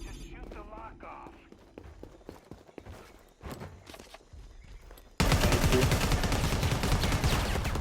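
Gunfire in Predator: Hunting Grounds as a lock is shot off, with scattered shots and footsteps under players talking, then a sudden loud, dense burst of sustained firing to the end.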